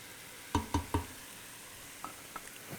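Spiced carrot soup vegetables stirred in olive oil in a pot: three close scraping stirs in quick succession, then softer taps, over a gentle sizzle with no talk.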